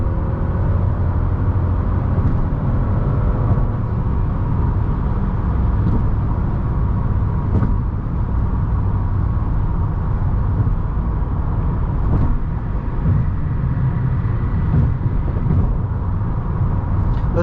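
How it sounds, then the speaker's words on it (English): Cabin of a 2005 Mercedes-Benz S500 W220 cruising at high speed, a loud steady low rumble of road and wind noise with occasional faint thumps, constant throughout and without talk. "it's just going to coast real nice. Like 100 something miles an hour for this car"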